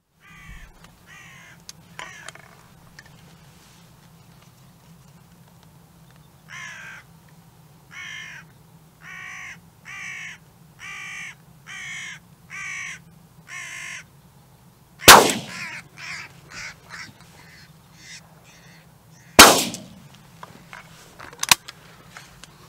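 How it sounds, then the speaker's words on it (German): Crows caw in a series of evenly spaced harsh calls out in the open while hunting, each call fairly clear against a low steady hum, and two loud sharp bangs interrupt the sequence. "Zwei Krähen innerhalb einer Minute."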